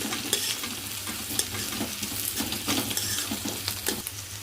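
Tomato, green chilli and curry leaves being stirred in a sizzling pan, with a steady frying crackle and soft scraping strokes throughout, close up and without talk.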